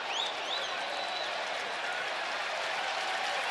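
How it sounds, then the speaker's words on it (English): A baseball stadium crowd applauds an umpire, Laz Diaz, after he is struck by a hit ball: sustained, loud, even clapping and cheering from a large crowd, with a couple of shrill whistles near the start. "Gets a nice ovation from the crowd"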